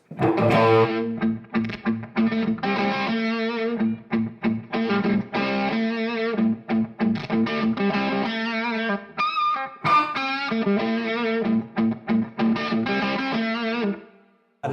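A Paul Reed Smith electric guitar through a distorted amp plays chords and riffs loudly and continuously, with a thick, saturated tone, harmonics jumping out, cleaning up when the player backs off, and brief gaps between phrases.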